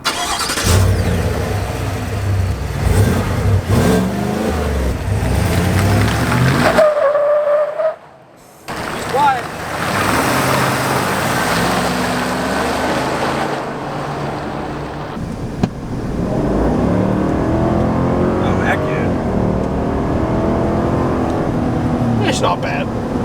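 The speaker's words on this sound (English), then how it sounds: "don't you feel like that was more engine noise than exhaust?" A 6.2-litre Chevrolet Silverado ZR2 fitted with a new exhaust revs loudly and close by, with rising and falling engine roars broken by a brief drop-out, while people talk over and between the revs.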